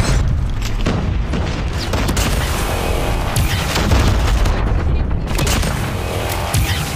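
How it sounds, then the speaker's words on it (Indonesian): Shotgun blasts in a first-person shooter, heavy booming shots layered over constant game noise and thumping, dense and loud throughout. "Kali ini gue pakai shotgun"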